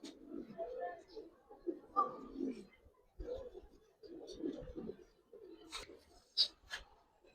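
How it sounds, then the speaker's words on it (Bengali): Giribaz pigeons kept in a loft give soft low coos close by, mixed with quiet murmuring voices and a few sharper chirps near the end. "এটা ওই যে বড় ভাইয়েরই কবুতর"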